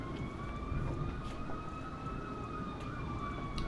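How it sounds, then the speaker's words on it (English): Emergency vehicle sirens wail outside on the Fourth of July, faint and distant, their rising and falling tones steady and continuous over a low background rumble. "Oh, we got a lot of sirens going on today."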